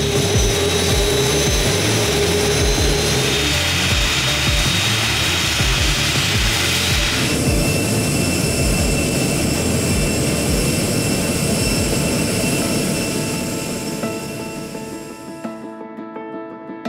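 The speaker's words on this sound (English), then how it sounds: "the crew now moves on to the full engine run" An aircraft jet engine roars at full power during a ground maintenance engine run, loud and sustained with a high whine, its pitch shifting midway before the noise starts to fade near the end.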